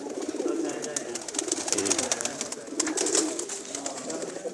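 A pigeon in a rooftop loft, a brave bird that is slightly ill, coos steadily and close by, with soft clicks and flutters scattered through the low rumbling calls.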